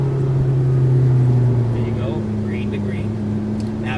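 McLaren MP4-12C accelerating on a cone course, a steady loud engine drone with a strong low hum that rises slightly, while a voice talks over it.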